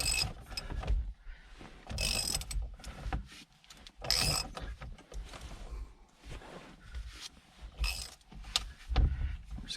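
Ratchet wrench unscrewing the steering wheel bolt on a 2017-2022 Honda CR-V, close clicking and metallic turning in irregular bursts with short pauses, no talk.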